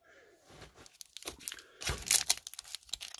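Sticky painter's tape is torn off a package in several short ripping and crinkling bursts, quiet and close, growing louder toward the end.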